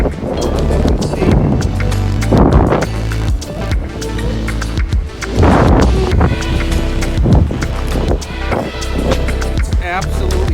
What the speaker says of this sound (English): It's absolutely crazy how windy it is over here.